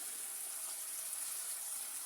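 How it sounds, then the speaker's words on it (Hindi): A little water is added to a pan of fried spices (turmeric, salt and chili) for dry cauliflower, producing a steady, even hiss close by with no talk. "साथ थोड़ा सा पानी डालूंगी"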